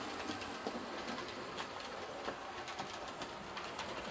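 A Hornby model train runs on a layout track with a steady, even rush of small wheels and a faint rhythmic clicking of rail joints, continuous and fairly quiet throughout.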